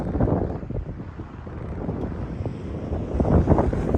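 Gusty wind buffets an outdoor microphone near the Estonia–Russia border crossing, a steady low rumble that swells and surges throughout with no talking.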